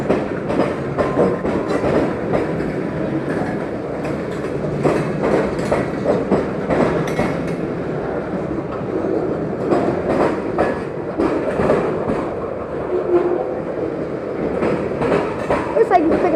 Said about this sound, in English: Looks like he's picking up speed. And there's the end of the train.